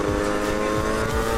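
A 50cc moped engine drones continuously with a buzzing, slightly wavering tone, loud and close, without pauses.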